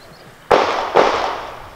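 Two sharp gunshots crack about half a second apart during a special forces shooting drill, loud and close, each with a decaying echo tail, with no talk over them.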